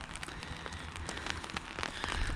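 Steady rain patters and crackles close by during a walk beside a river near a bridge, its dense scattered drops growing slightly louder toward the end, with no voices.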